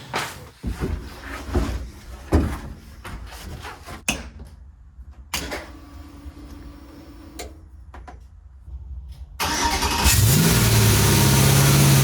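A 1955 Ford truck engine after 28 years of sitting: short cranking bursts, then it catches and roars into a loud, steady revving run, recorded close.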